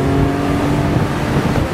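A 1998 Mercedes-Benz SL 600 V12 roadster accelerates hard on kickdown, its engine a loud, steady, close droning roar held throughout with no speech.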